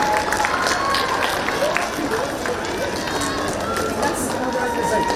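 A group of girls claps steadily at a school sports meet, a busy, continuous patter of many small hands with voices talking over it throughout.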